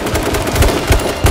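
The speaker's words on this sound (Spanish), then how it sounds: "Le he metido dos tiros." Rapid gunfire in the H1Z1 battle royale video game, a close, loud burst of repeated shots in an uneven rhythm across a second and a half, with no speech.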